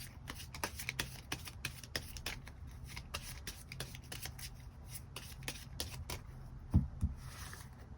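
Tarot cards are shuffled by hand in quick, rhythmic riffles and flicks that repeat across the whole stretch. One card is drawn with a soft thump near the end, close and quiet, with no one speaking.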